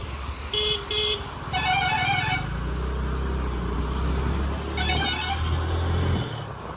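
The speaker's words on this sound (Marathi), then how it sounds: "कोण आहे बी मला एवढं बेकार हॉर्न वाजवते" A horn gives two short toots, then a longer blast, and later another honk, over a low engine rumble nearby, heard from a motorbike on a rainy ride.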